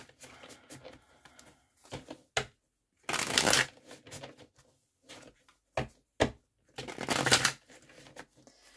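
Tarot cards being shuffled close up, with bursts of riffling and bridging cascades between lighter taps and soft card handling, and no voices.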